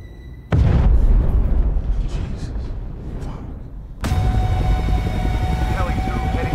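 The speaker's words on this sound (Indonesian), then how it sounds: "ledakan terjadi di apartemen tersebut yang membuat seluruh orang di gedung itu berhamburan keluar untuk menyelamatkan diri" A film explosion tears through an apartment building high-rise, a loud sudden blast with heavy low rumble that dies back, then a second broadband surge of roaring, crumbling noise with a steady tone under it; no talk.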